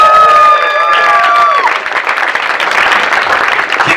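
An audience at a comedy show applauds loudly and steadily, with dense clapping and some cheering after a voice calls out over the start of it.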